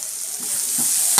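Onions and tomatoes fry in a pan with a steady sizzle and short stirring scrapes, ending in a sharper clink near the end, no talking.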